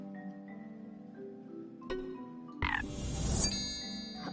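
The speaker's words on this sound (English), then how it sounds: "So Tiny gets turned into a frog." A frog croaks in the video game Storyteller, with several short croaking calls followed by a brighter, sparkling burst of game sound.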